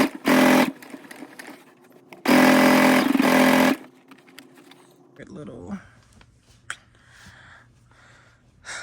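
A sewing machine runs in two loud bursts of rapid stitching, the second longer, followed by quieter handling noises and faint talk.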